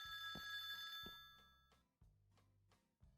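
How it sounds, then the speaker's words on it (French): Video game telephone bell ringing in three repeated electronic bursts, each a bright trill followed by a short gap, clear and close with no voices. "Le téléphone sonne, j'avais deviné."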